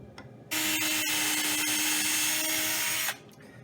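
A power drill boring holes into wood for a mallet, the motor spinning up sharply, whining steadily at close range for about two and a half seconds, then winding down, with quiet handling noise before and after.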